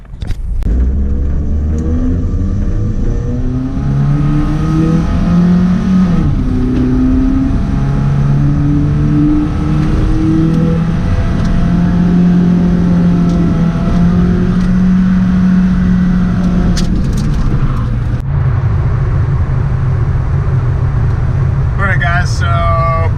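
A 90 whp Volvo with an automatic gearbox and welded differential accelerating hard and sliding through a large highway on-ramp at about 100 km/h, a steady loud engine drone with rising revs throughout, while a person talks over it.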